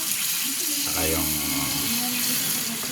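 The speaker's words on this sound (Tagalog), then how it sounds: "Lagyan natin ng tubig para lumambot yung kamyas." Water pours steadily into a pan of sautéed kamias, a rushing splash with a rising gurgle that fills the space for a couple of seconds.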